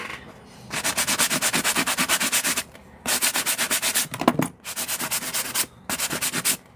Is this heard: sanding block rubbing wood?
yes